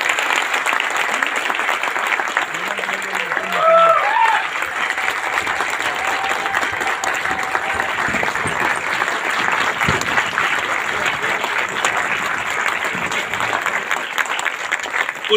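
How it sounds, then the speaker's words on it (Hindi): An audience bursts into sustained applause at a gathering, dense steady clapping filling the room for the whole stretch, with a few faint voices underneath. "मैं चाहूंगा ऐसे applied mister SP Sharma ji के लिए जबरदस्त ताली बजा दें।"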